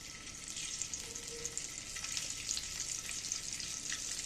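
Halved boiled eggs fry in hot oil, giving a quiet, even, continuous sizzle with faint crackles throughout and no other sounds.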